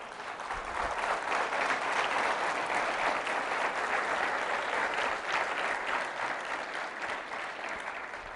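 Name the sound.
congregation applauding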